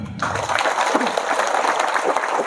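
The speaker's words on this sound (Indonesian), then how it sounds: "Tepuk tangan dulu." A crowd at a Maulid Nabi religious lecture breaks into clapping after a brief voice at the start, a dense steady patter of many hands that holds at an even level to the end.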